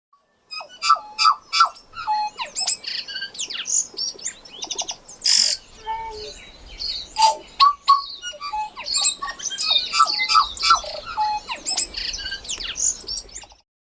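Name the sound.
tui bird song with tuneful notes, coughs and wheezes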